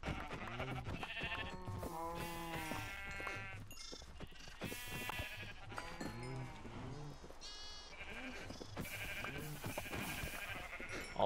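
Minecraft sheep bleat repeatedly in the video game, a run of wavering, nasal baa calls overlapping at moderate volume against faint ambient game sound.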